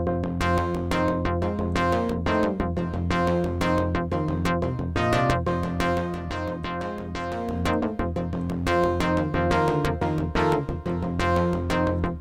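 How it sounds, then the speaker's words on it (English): A synth sequence pulses steadily while its tone gradually shifts and sweeps, the brightness opening and closing over the repeating notes. "what you're hearing is automation that I just programmed in with a mouse."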